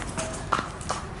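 Horse hooves clip-clop at an easy pace on hard ground at a motel, with voices talking underneath the close, rhythmic knocks.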